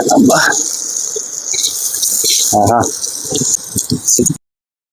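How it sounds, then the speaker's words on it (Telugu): Water flowing out below a dam at an outdoor spot gives a steady, broad rushing wash for several seconds, with people talking over it. "నీళ్ళు ఇట్లా పోతా ఉన్నాయి"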